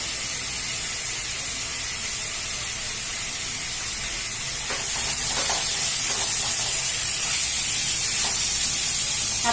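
Ginger, garlic and chili paste with turmeric roasts in a pan over a low gas flame, giving a steady broadband hiss and spit that swells louder halfway through, with faint stirring scrapes.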